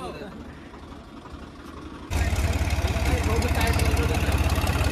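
The engines of a New Holland 3630 and a Swaraj 960 tractor rumble through a low idle, then surge into a much louder, steady roar as they pull in a tug-of-war contest.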